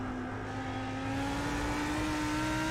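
Race cars in the iRacing sim at Bathurst, a steady loud engine drone with a slowly rising pitch, rear tyres slipping slightly as one car holds a continuous note alone.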